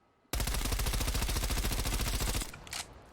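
A loud, rapid burst of automatic gunfire from a gun in the video game Black Ops Cold War lasts about two seconds, then cuts off and a few quieter shots or clicks trail after it.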